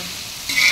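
Mixed vegetables for khichdi sauté in a hot pan. A soft, steady hiss swells into a brighter, louder sizzle partway through the brief moment, with no voices.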